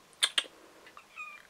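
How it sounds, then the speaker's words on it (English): A domestic cat gives two quick, high meows close by, followed by a few faint, softer chirps in an otherwise quiet room. "Don't scratch. Bad cat."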